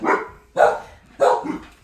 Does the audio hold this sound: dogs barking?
yes